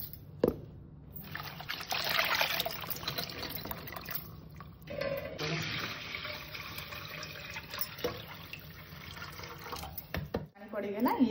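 Tap water runs and splashes while ragi (finger millet) is rinsed in a kitchen, an uneven pouring and trickling that stops and restarts over several seconds, with a voice talking over it.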